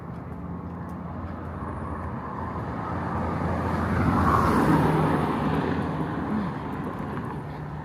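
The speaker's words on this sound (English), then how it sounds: "Wonder if they can hear the traffic inside their house though. It is a lot of traffic." Steady suburban street traffic in Merida rumbles past on foot, a broad wash of car noise that swells as a vehicle draws near mid-way and fades again, with no voices over it.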